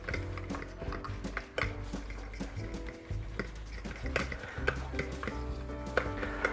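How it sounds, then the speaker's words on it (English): Garlic is stirred into mayonnaise in a bowl with a steady, soft scraping and mixing, partly masked by a constant busy background. "I'm going to kind of mix this together to get that garlic infused in that mayonnaise"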